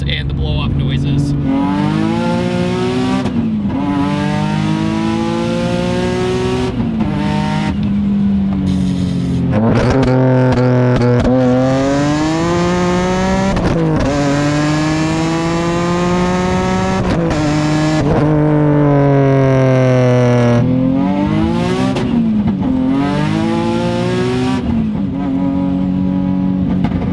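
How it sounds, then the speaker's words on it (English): Single-turbo Nissan 350Z HR engine with 540 horsepower, revving repeatedly through rising and falling pitch sweeps with blow-off hisses between pulls, loud and close. "It has the dramatic sounds and the blow-off noises."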